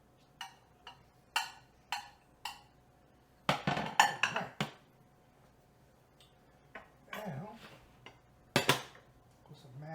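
Knife and fork clinking and scraping on a plate while cutting into a cooked meatloaf, sharp intermittent ticks and clatters in a quiet room.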